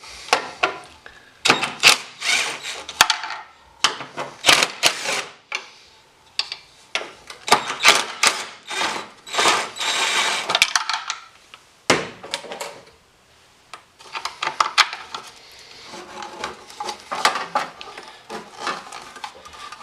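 Three 3/8-head screws being taken out of the body of a Jeep CJ7 to free the brake light assembly, a close run of irregular clicks, rattles and ratcheting taps with brief pauses in between.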